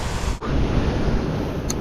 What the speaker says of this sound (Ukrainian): Тепер в руку взагалі дає гарно вітер